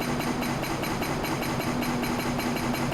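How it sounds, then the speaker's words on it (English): A big farm vehicle's engine in Farming Simulator 25 runs steadily at idle, a continuous low rumble with a faint regular pulse and no talk over it. "But just listen to the engine there,"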